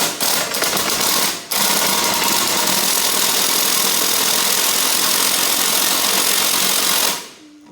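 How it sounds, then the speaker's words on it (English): Impact driver undoing the legs on a Liteweight Panorama 506 caravan, hammering loudly and steadily for about seven seconds with one brief break early on, close and harsh-sounding. "as you can hear from the impact driver, that is not good"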